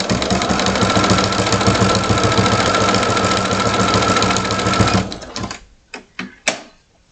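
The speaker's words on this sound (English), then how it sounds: "Lower my foot down and sew across that." Sewing machine stitching steadily across a tiered fabric piece, a fast continuous mechanical whir close up, then stopping and giving way to a few short separate stitch bursts.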